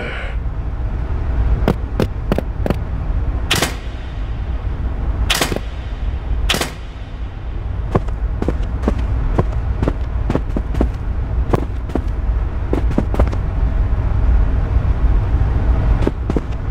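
Light artillery firing in the puzzle adventure game Armikrog, a string of sharp, loud shots spaced irregularly over a low, continuous rumble.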